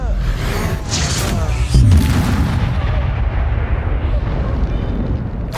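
Loud Confringo spell explosion in the Hogwarts Legacy video game, a blast swelling out of ongoing combat noise with a sharp burst near the middle and a rumbling tail.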